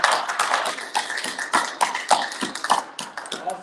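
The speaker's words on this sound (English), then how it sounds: "Let's give our Lord a round of applause." A church congregation applauds together, a dense run of sharp claps and taps that rises and falls in clustered bursts throughout, fairly close and lively, with no speech over it.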